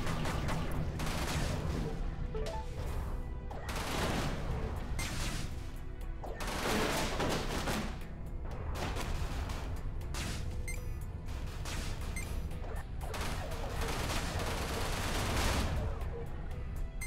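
An enemy ship fires at the player in the space combat game Everspace, producing sustained dense bursts of blasting weapon fire with rhythmic surges, loud and continuous throughout.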